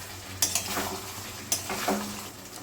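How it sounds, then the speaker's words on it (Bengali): Chhana koftas stirred into a simmering korma gravy in a pan, with a steady soft sizzle and two sharp scraping clinks of a spoon against the pan, no talking. "কোপ্তাগুলো দিয়ে দিচ্ছি। ভালো করে একটু নেড়ে দেব।"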